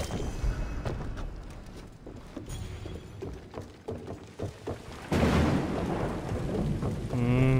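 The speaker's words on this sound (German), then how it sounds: "Ich liebe es. Ganz gewittert." A thunderstorm in the video game Assassin's Creed Odyssey, with steady heavy rain and rolling thunder that swells into a loud, broad rumble partway through and continues to the end. No one speaks.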